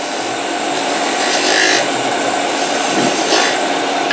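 A skew chisel slices an oblique cut across spinning wood on a lathe, giving a steady close-up shaving hiss with slight swells in intensity and no talking.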